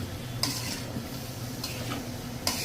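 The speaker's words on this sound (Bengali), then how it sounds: "একটা চামচ পরিমাণ আস্তে জিরার ফোড়ন দিয়ে এখানে সবজিগুলো ঢেলে দিয়ে দিলাম" Vegetables fry in hot oil after a cumin tempering, a steady low sizzle broken by three brief bright scrapes of a spoon against the pan, close by and without speech.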